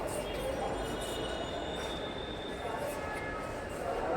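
A Dhaka metro rail train pulls into a platform with a steady, loud rumble and rolling-wheel roar that lasts the whole stretch. Faint voices sit under the noise.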